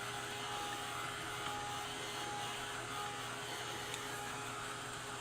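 A dryer blows steadily on acrylic paint, a constant loud whooshing hum with a faint whine that runs unbroken from start to finish and no voices.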